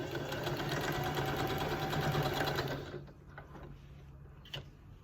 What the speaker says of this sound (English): So I'm going to sew these two pieces together.